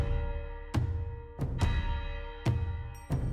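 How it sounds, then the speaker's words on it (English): Cinematic percussion group from the Groth sample library strikes deep booming drum hits in an uneven rhythm, about five heavy impacts ringing over a sustained tonal bed, with no talking. "I'm using Groth once again for the beautiful percussion."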